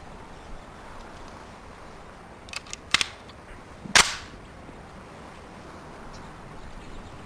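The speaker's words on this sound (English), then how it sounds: "2 shots to center mass, semi-auto." Semi-automatic pistol shots ring out on a police firing range in a video game, a few sharp cracks in close succession and then one louder shot over a faint hissing background.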